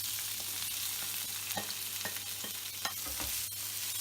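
Sliced onions frying in a pan for butter chicken gravy: a constant close sizzle punctuated by rhythmic spatula scrapes and taps against the pan, with no talking.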